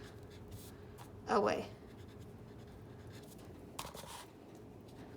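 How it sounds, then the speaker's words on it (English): A number handwritten with a pen or pencil, with a brief scratchy stroke burst and a fainter second scrawl, while a voice talks over it. "I'm going to write the number"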